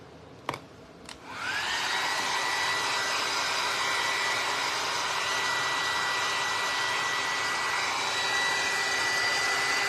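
A hair dryer switched on to dry paint on book spines during a book stack makeover; after a couple of clicks it starts with a rising whir, then blows steadily and loudly at close range.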